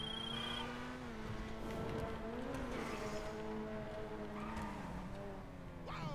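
A pricey supercar engine in GTA V hums and revs under a bridge, its tone climbing and dipping across several gear changes, moderately close with a tire squeal near the end.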